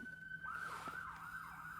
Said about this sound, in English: Yeah, the sirens have spoken.